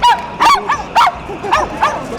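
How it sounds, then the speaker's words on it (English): A dog barks at a street protest in Bulgaria, giving about six sharp, fairly loud barks in an uneven rhythm close by, with no talk over them. "So the dog seems to be protesting as well."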